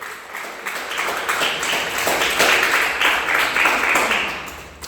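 A church congregation applauds Jesus during a Spanish-language sermon, producing sustained, loud, dense clapping that swells toward the middle with a few voices mixed in.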